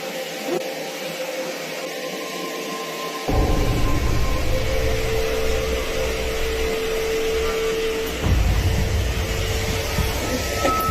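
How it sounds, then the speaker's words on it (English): A vacuum cleaner runs steadily on a hallway carpet, a continuous loud motor drone that steps up in intensity around three seconds in and again near eight seconds, with no talking. "casually vacuuming the hallway carpet"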